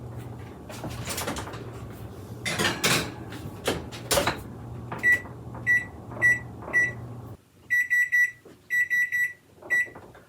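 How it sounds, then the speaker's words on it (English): A kitchen oven timer going off while baking blueberry lemon muffins, a series of loud repeated electronic beeps in short clusters, following some clattering and handling noises in the kitchen. "Our timer just went off"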